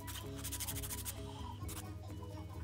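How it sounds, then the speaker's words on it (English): Acrylic nails being shaped with a nail file give quick, rhythmic scratchy strokes that are faint and partly buried under background music, heaviest at the start and again briefly later. "A bit more filing for you."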